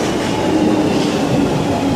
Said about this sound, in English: See how tiny the trains are